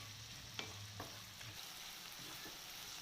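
Sliced onions with salt cooking in a pan give a steady, soft sizzle, broken by a few light scrapes and stirs of a spoon, close by and without speech.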